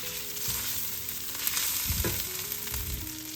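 Rice fries in ghee for a thandai kheer while being stirred, giving a soft continuous sizzle with low scraping stirs and a few clinks, close but fairly quiet, with no talk.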